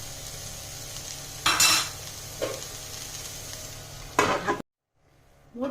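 Banana blossom frying in a pan with lentils, a steady soft sizzle broken by a few louder bursts of stirring or scraping, then a sudden cut to near silence at the end.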